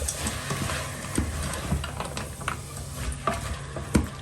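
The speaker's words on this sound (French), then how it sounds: "Vous remuez un peu le tout." Chickpeas and celery are stirred in a cooking pot, with a soft steady sizzle and scraping, clinking stir strokes throughout, moderately close and without talk.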